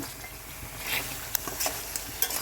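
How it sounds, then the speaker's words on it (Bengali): Raw pumpkin pieces are stirred and sautéed in a pan while a chicken dish is cooked. A close, steady sizzle runs under repeated scraping stir strokes and light taps of a utensil against the pan, with no talking. "এভাবে কুমড়োটা দেওয়ার পরেও আবার একটু নাড়াচাড়া করে কষিয়ে নিচ্ছি"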